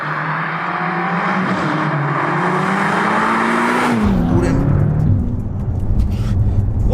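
A BMW M5's big V8 engine revs hard, a loud, sustained snarl with rising pitch sweeps, then drops into a deeper rumble as the car seems to pass close by.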